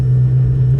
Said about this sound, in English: Wow, you can hear the turbos behind me.